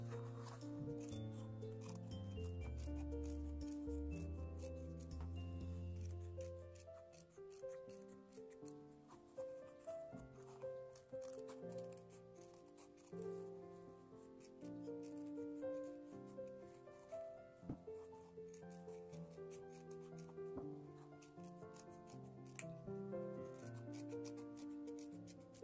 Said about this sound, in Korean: 원단을 잘라볼게요.